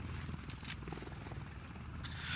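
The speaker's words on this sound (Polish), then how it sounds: "Co to za helikopter leciał teraz?" Helicopter flying overhead in the video game The Division, a faint low rotor rumble that stays steady throughout at a distance.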